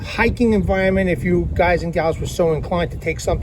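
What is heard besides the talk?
No everyday noise stands out behind the speech.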